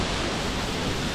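A waterfall near Juneau, Alaska, roars as a steady, dense wash of broadband rushing water, continuous and close with no pauses.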